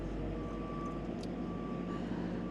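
A vehicle backing up with a load of steel gives steady, regular reversing beeps over a low engine drone, fairly distant and continuous.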